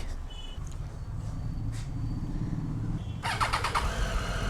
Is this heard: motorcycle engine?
yes